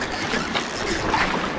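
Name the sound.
fishing reel drag clicking as a fish pulls line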